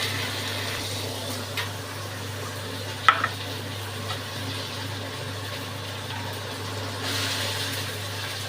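Tomatoes sautéing in a pan with drumsticks and onion: a soft, steady sizzle under a low background hum, with a few faint clinks of stirring.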